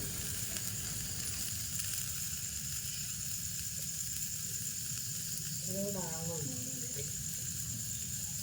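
Chicken grilling over glowing coals sizzles steadily and closely, with a constant broad hiss that never lets up. A brief, faint voice briefly cuts through partway in.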